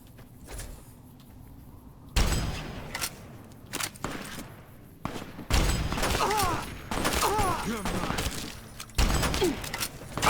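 Gunfire in the Fallout: Tale of Two Wastelands video game, bursts of shots and impacts in a chaotic firefight, loud and close, broken by quieter gaps, with game voices and effects around them.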